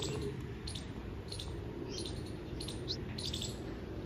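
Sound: birds chirping

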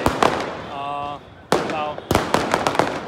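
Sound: firecrackers crackling at night celebration

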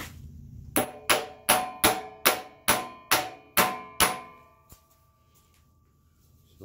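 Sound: tapping wobbly pulley into place

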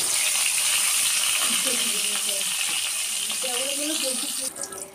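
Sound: brinjal slices frying in hot oil

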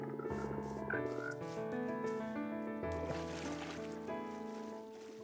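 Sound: frogs croaking in video game Minecraft

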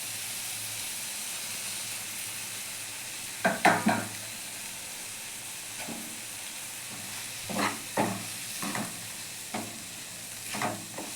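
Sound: onion, tomato and green chili frying in a pan

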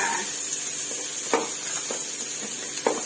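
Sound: onion and carrot stir-frying with garlic in a hot pan

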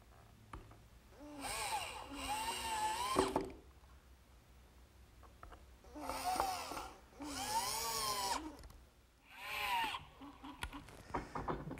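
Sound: power drill driving screws into a workbench frame

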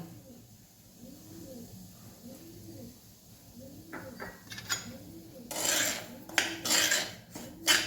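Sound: stirring and roasting semolina in ghee in a pan

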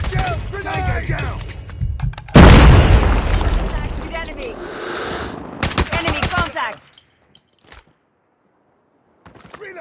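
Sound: grenade explosion and gunfire in Call of Duty Mobile video game

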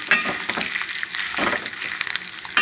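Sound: frying in oil while making curry leaf pickle

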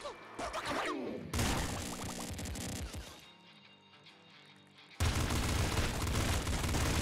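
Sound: shotgun gunfire in video game Nuclear Throne

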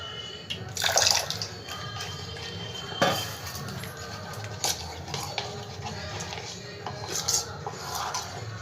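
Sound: water added to papad batter while mixing

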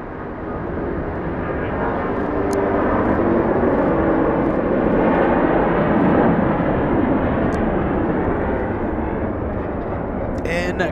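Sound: Asiana Airbus A380 taking off at close range

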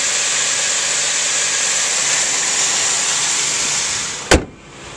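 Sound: 2002 Dodge Intrepid SE V6 engine running

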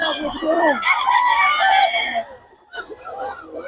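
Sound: gamecock rooster crowing

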